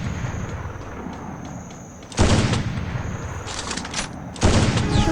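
Two heavy sniper rifle shots boom in the Free Fire mobile game, each a loud sudden blast followed by a lingering tail, with quieter game ambience in between.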